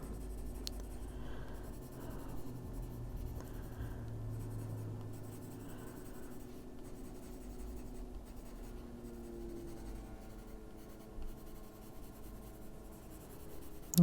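A green coloring pencil scratches steadily on coloring book paper in an adult coloring book, a continuous soft close-up scraping of back-and-forth strokes with no talk.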